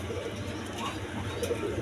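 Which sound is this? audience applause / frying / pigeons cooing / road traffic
pigeons cooing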